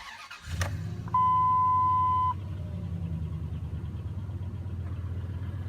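A Dodge Ram's engine cranks with a short burst and catches, then settles into a steady, close, mid-pitched idle, with a brief electronic chime sounding over it for about a second just after it starts.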